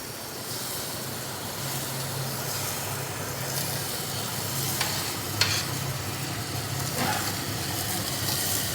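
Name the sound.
kitchen chimney exhaust hood running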